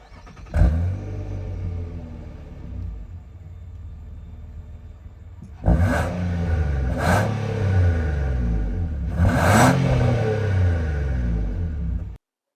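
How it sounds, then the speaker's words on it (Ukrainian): A 2015 Nissan Pathfinder engine turns over and idles with a low hum, then revs up three times in strong bursts before cutting off abruptly. "Ось, звучок мотора зараз ви почуєте."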